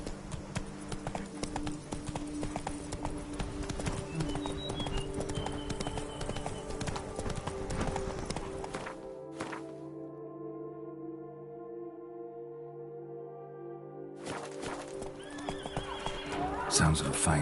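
Hooves of the horse Roach clip-clop at a gallop in The Witcher 3: Blood and Wine, with loud neighs and whinnies over game music; the sound cuts out briefly mid-clip, then returns with speech.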